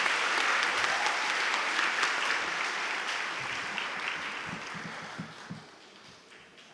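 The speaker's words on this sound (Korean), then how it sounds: "장로님들과 권사님들께 한 번 더 박수 보내주시면 감사하겠습니다." Many hands clap in sustained applause from a church audience honoring elders and deaconesses at a joint retreat talk concert; the crowd noise is dense and full at first, then gradually thins and fades toward the end.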